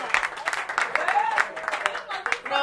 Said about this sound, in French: On applaudit très fort pour vous.